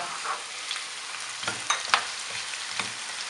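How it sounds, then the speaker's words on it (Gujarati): Carrots and mixed vegetables fry in hot oil for a Parsi lagan nu stew, a soft continuous sizzle punctuated by a few sharp stirring taps and scrapes near the pan. "હવે આપણે ગાજર નાખીએ ને એને બી ફ્રાય કરીએ"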